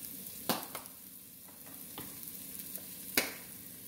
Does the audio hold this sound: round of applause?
no